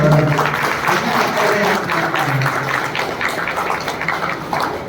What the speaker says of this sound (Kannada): ಅವರಿಗೆ ತಮ್ಮೆಲ್ಲರ ಚಪ್ಪಾಳೆಯ ಮೂಲಕ ಧನ್ಯವಾದಗಳನ್ನು ಹೇಳ್ತಾ ಇದ್ದೇವೆ. ಚಪ್ಪಾಳೆ ಹೊಡಿಬೇಕು.